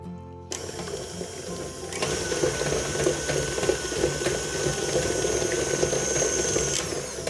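Electric mixer beating cheesecake mixture, a steady whirring mechanical drone with rhythmic rattling that starts abruptly after a brief silence and runs continuously, close and without talking.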